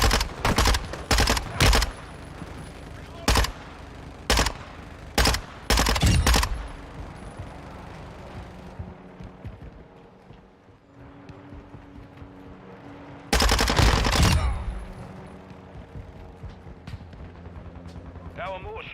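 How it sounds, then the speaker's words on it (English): Gunfire in Call of Duty: Modern Warfare II, with sharp, loud single shots in quick succession, a pause, then a heavier burst of firing, with game voice callouts and background battle noise. "Taking effective fire."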